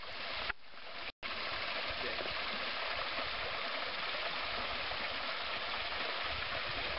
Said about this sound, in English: This is another creek along the trail.